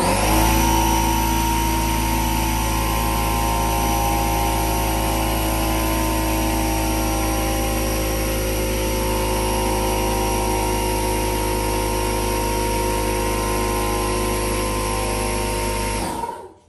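New air compressor running steadily to build pressure, a loud, constant motor drone with a strong low hum that holds for about sixteen seconds before shutting off abruptly.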